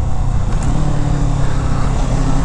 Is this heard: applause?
no